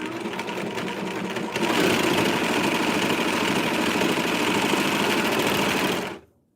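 A sewing machine runs a test stitch after threading, whirring steadily at close range with a rapid mechanical rattle that speeds up partway through and then stops abruptly.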